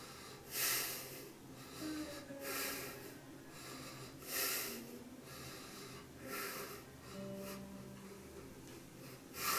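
Slow, steady breaths during an intense yoga pose, each long inhale and exhale rising as a soft airy swell every two seconds or so, close and quiet with no talking.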